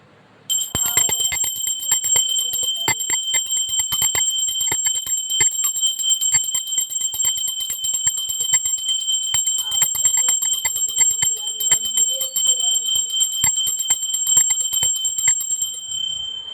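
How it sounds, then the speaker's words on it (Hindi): A hand bell is rung continuously during Radha Krishna worship, its bright metallic clangs coming in a rapid, steady ringing pattern, loud and close for about fifteen seconds. "घंटी बजाते ही लाला दौड़ कर आते हैं।"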